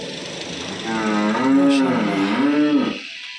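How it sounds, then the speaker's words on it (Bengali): A single deep, drawn-out moo from a large pregnant dairy cow, close and loud, rising and wavering before trailing off. "অনেক বড় গরু, হাঁটো,"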